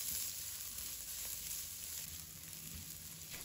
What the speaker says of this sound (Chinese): 锅中倒入食用油，加入切好的葱姜蒜和小米椒，快速翻炒